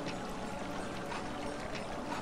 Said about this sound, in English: So we got water, a water mill.